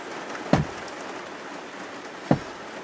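Steady rain falls outside a caravan parked in Rome, a constant soft hiss of drops with two brief, sharper knocks standing out.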